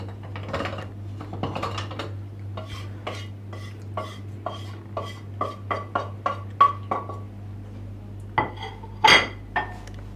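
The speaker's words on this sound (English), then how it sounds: "And I will mix them gently like this." A utensil gently mixing potatoes and cheese in a pan, with a steady series of light scraping and clinking strokes at a regular pace, close and distinct with no talking.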